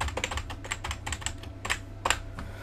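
Computer keyboard typing during a Danganronpa 2: Goodbye Despair let's-play session: close, irregular bursts of key clicks with short pauses between runs, crisp and near over faint low background hum.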